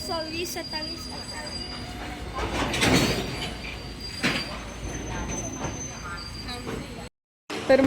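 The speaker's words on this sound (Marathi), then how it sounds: "आपण रेल्वे स्टेशनला बसला आणि मालगाडी जाता" A goods train rolls past at a railway station, a loud, steady rumble of wagons with faint wheel squeal, then a brief drop to silence before the noise returns. Voices are faintly present.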